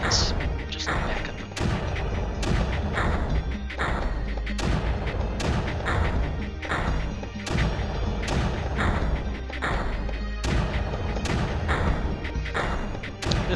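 Mortars in the strategy game Creeper World fire in a steady rhythm of repeated booming thumps, about two per second, layered over a dense, busy game soundscape with no talking.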